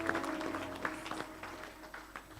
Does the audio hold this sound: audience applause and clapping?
yes